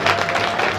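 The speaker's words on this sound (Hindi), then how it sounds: "ये देखो ये तालियों की गड़गड़ाहट आपको बता रही है" Dense, steady applause from a large crowd at a political rally, a broad wash of clapping with no breaks, loud and close throughout.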